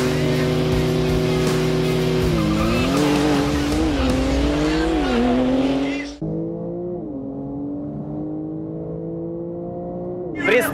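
Porsche launching in a drag race, engine note rising in stepped gear pulls at close range, loud and strained, then dropping to a quieter, more distant drone as the car moves away.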